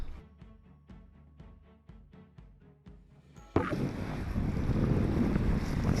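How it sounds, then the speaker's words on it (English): Rhythmic low thumping gives way abruptly to loud, steady seaside wind in Wellington, New Zealand buffeting the microphone, a broad rushing roar that continues to the end. "It's quite windy here,"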